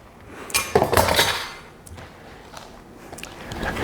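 Brownies in a baking pan being moved onto a cutting board in a kitchen, with a short run of metal-and-dish clatter and clinking of pan and utensils, then quieter handling thumps.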